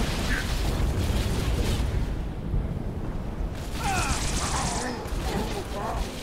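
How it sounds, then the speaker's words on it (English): A grenade blast booms in Halo Reach on Mythic difficulty, a loud rumbling explosion amid gunfire and battle clatter, with sharp crackling bursts after it. "he throws a grenade, jump out of the way"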